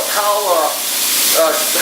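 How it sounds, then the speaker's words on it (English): A steady, loud hiss from a Dan Mar portable spray system runs unbroken for a couple of seconds, with a faint voice murmuring underneath. "start the spray system with my remote"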